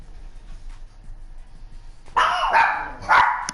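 Pet dogs barking indoors, two sharp bursts of barks close to the mic after a quiet stretch with faint background hum.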